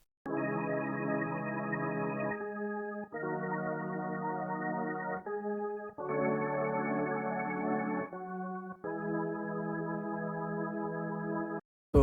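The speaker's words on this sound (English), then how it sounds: "I then added an organ from D50, but from the VST Roland JV, and this is how the organ sounds like." A D50-style organ patch from the Roland JV VST plays sustained chords in an R&B soul sample, rich harmonic tones held in four long phrases with short gaps, steady and alone.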